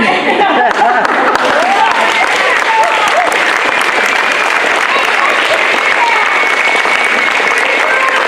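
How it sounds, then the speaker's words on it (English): A theatre crowd applauds after a Wizard of Oz performance, dense continuous clapping with scattered cheers and chatter mixed in. "The biggest round of applause should go to these two right here for coming out."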